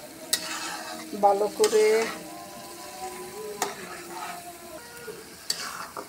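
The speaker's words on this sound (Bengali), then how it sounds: "এখন নাড়াচাড়া দিয়ে একটু মশলাগুলো সব কষিয়ে নিলাম" Beef tripe frying with spices while being stirred in a pan: steady soft sizzle with intermittent scraping and clanks of the spoon, close by, and a voice speaking briefly over it.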